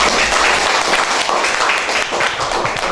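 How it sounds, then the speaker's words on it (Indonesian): A classroom group applauds together, dense, continuous clapping from many hands filling the room evenly and loudly for the whole stretch. "Oke, kita beri aplaus untuk semua."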